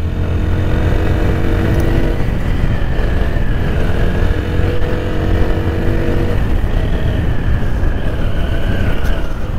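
A TVS Apache RTR 160 4V motorcycle is ridden in sport mode, its engine droning steadily and loudly with a constant low rumble and faint wind noise throughout, no voices.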